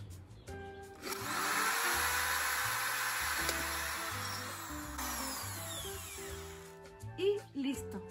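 A power drill bores a hole in a ceramic cup resting on a pillow, giving a steady whining grind with a tonal sweep as it spins down, and a voice talks over it.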